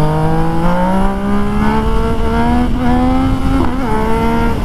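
A reprogrammed Yamaha MT-09 SP motorcycle revs hard under acceleration, its loud engine note climbing steadily with brief dips near the end where gears change, close and continuous with no talk.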